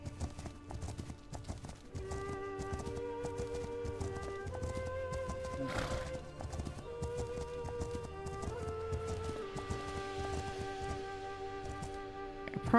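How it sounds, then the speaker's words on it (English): Horse hooves at a canter in The Legend of Khiimori, a video game set on open steppes, with steady rhythmic clip-clopping running throughout under a sustained musical score and occasional snorts. "Going back up to a canter."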